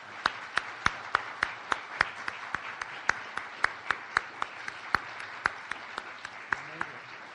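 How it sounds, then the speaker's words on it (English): An audience gives a round of welcoming applause for guests at a historical liberation commemoration event, light and sparse, with distinct close single claps ringing out steadily over a quieter crowd background. "Please join me in a round of welcoming applause."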